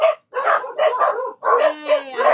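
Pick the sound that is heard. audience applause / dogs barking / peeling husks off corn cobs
dogs barking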